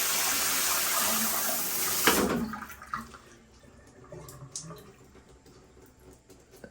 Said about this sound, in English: Seems to be draining, right?